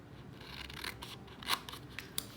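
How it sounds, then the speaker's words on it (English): Scissors snip through paper squares cut from a 6x6 paper pad, several short crisp cuts with rustling in between, one sharper snip near the middle, close and fairly quiet, with no talking. "we're gonna go ahead and cut out these 3 squares just like this"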